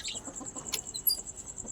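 Soft hen clucks and chicken sounds at a distance from a rooftop coop with two roosters and black hens, faint and intermittent over a steady high-pitched hum.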